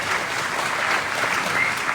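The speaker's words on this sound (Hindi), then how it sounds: "तालियां जोरदार तालियां" Loud, sustained applause from an audience at a business training programme in a hall in Odisha, a dense steady wash of many hands clapping for the full two seconds with no talk over it.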